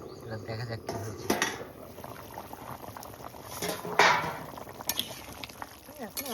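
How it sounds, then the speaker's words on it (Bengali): Duck curry broth boiling hard in a covered pot, a steady bubbling hiss with occasional lid and utensil clinks, close and moderately loud throughout. "ঝোল ফোটাচ্ছে, ওটা শব্দ উঠে গেছে।"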